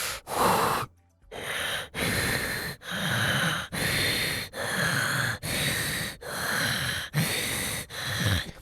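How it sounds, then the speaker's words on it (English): Loud, close heavy breathing comes in a run of about nine rhythmic gasping breaths, each separated by a brief pause. "Heavy breathing noises."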